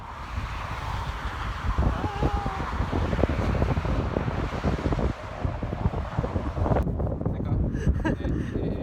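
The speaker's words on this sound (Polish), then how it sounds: "Ale wieje strasznie" Strong wind buffets the microphone in an open outdoor space near a lighthouse by the sea, producing loud continuous rumbling gusts. A voice is heard, and some brighter noise joins near the end.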